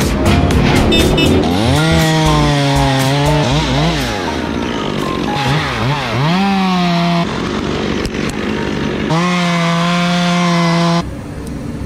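A chainsaw cuts a branch nub on a 90 ft oak during removal beside a house, revving loudly close by with rising and falling pitch as the chain bites, then dropping back near the end.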